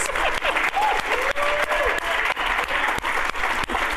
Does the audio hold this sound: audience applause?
yes